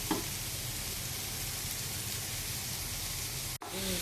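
Vegetables for veg biryani sauté in a pan with a steady, close broadband sizzle that holds evenly throughout, broken by one brief dropout near the end; no one speaks.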